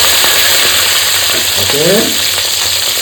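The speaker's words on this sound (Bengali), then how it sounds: "দেখো সুন্দর লালচে লালচে করে মাথাটা ভেজে নিয়েছি" A catla fish head fries in hot mustard oil with a steady, loud sizzle and crackle and a few scraping stirs, while a voice speaks a single short word over it.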